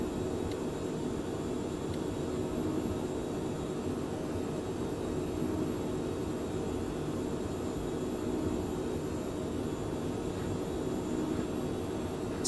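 Airliner engines roar steadily through the takeoff roll, heard as a constant dense, broad rumble from inside the cabin or cockpit, with no speech.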